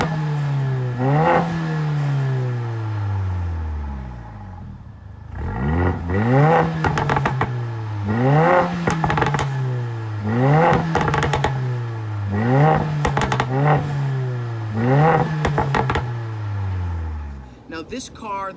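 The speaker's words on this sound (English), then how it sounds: "one of the most aggressive 4-cylinder exhaust notes that I've ever heard in my entire life" A 2019 Mercedes-Benz CLA 45 AMG four-cylinder engine revs repeatedly, rising and dropping in loud cycles, with crackling exhaust pops between pulls, close and aggressive.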